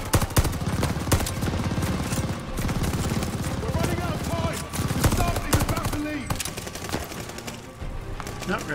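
Dense, continuous gunfire from Call of Duty: Vanguard on Xbox Series X, rapid bursts and sharp shots layered with game effects throughout, with a player talking intermittently over the combat.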